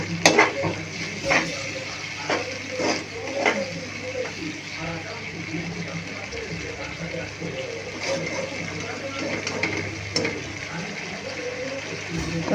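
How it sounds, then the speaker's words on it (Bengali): Masala spice paste for a fish bhuna fries in a pan, a low continuous sizzle punctuated by frequent scraping stirs of a spatula, with a voice talking over it at times. "মশলাটা আমি একটু ভালোভাবে কষিয়ে নেব"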